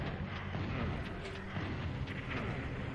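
Fireballs hurtling toward the player in Final Doom on PlayStation, a dense rumbling wash of fiery blasts and booms running continuously at moderate volume with no talking.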